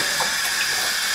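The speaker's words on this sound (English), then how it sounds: "I gotta get some water out of the sink real quick" Water runs steadily from a sink tap, a continuous close rushing hiss that stays even throughout, with no talking.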